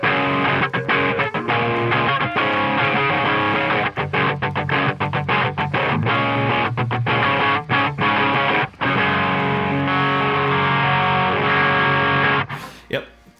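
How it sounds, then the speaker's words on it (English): An electric guitar plays through a thick overdrive, chords chugging with short choppy breaks, loud and dense with heavy mid-range crunch. "that just kind of gives it a nice overdrive sound"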